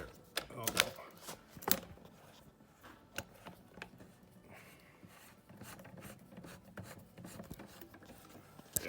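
A bicycle thru-axle threads into a Wahoo Kickr Core smart trainer set up for 12x142mm spacing: close, dry rasping and ratcheting scrapes in uneven bursts, the strongest early, then lighter intermittent clicks and rubs.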